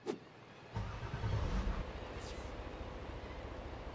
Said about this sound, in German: Ich fahre den Laster nach hinten.